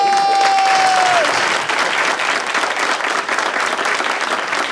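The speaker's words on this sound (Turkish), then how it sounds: "alkış!" Loud, sustained clapping from a crowd, dense and steady throughout, with a brief tonal whistle-like note at the start.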